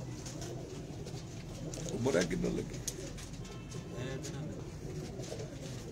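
Pigeons in a rooftop loft coo softly in low rolling bursts, a louder one in the middle, while someone talks over them.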